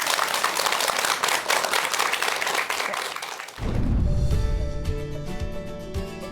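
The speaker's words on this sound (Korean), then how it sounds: "오늘 강연 박수로 청해 듣겠습니다." A lecture audience claps loudly and steadily for a few seconds. The applause then fades as music swells in and continues alone.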